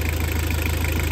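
A boat engine idles steadily at close range, a continuous even mechanical hum with a low throb, alone with no voices.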